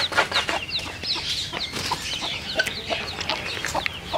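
Kadaknath hen clucking among her chicks, with a steady stream of thin, high peeps from the chicks over the hen's low clucks, close and fairly quiet.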